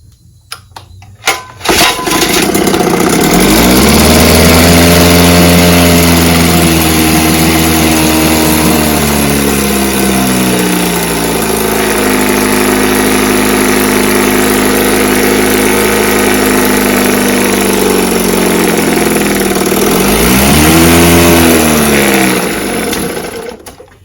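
Evinrude 5.5 outboard engine with a freshly tuned carburetor catching and starting, then running loud and close at a steady idle with a buzzing hum, the pitch dipping and rising again near the end.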